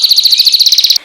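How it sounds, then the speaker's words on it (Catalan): A tiny bird chirps in a fast, regular series of about fifteen high, bright notes over one second, loud and close, then stops abruptly. "També el so d'un pardalet."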